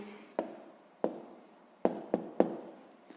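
A pen writes down an answer to a sixth-grade maths problem, five or six short, sharp scratching strokes spaced irregularly over a few seconds, close and fairly quiet.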